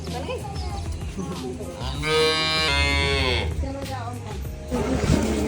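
A cow moos loudly nearby in a village, a long drawn-out low call in the middle, with background voices and outdoor noise around it.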